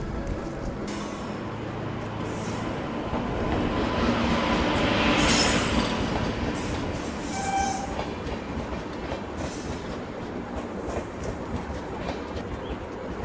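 The Mahabodhi Express passenger train rolls in along an Indian station platform, a loud continuous rumble of wheels and carriages with screeching squeals and rhythmic clatter swelling and easing, heard up close with no talking.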